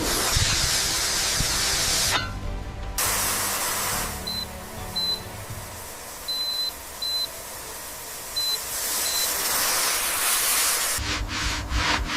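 A steady, broad hiss of steam from a model steam locomotive runs throughout, with short, high electronic beeps sounding in pairs over it.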